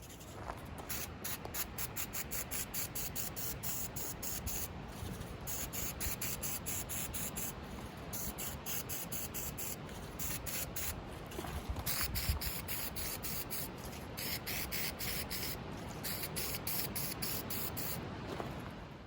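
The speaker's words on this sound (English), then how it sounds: "I'm going to add this stone sienna look by Rust-Oleum." Rust-Oleum stone sienna spray paint hissing from a can in a run of short, even bursts with brief gaps, close and steady with no talking.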